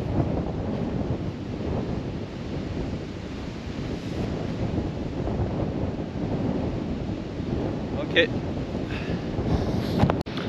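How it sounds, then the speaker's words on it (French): Wind buffeting across an open golf course on a plain, a steady heavy rumble and roar against the microphone throughout, with a brief spoken word near the end. "On est vachement exposé au vent là"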